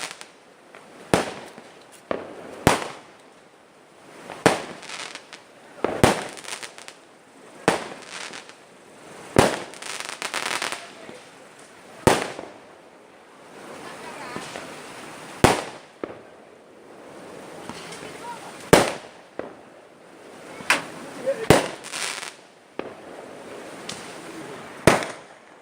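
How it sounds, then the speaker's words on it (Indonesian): New Year fireworks bang repeatedly at irregular intervals in a village in Indonesia, sharp loud bursts with crackling and rumbling in between, fairly close by. "Pesta kembang api dari Desa Hutan Baru menyambut Tahun Baru 1 Januari"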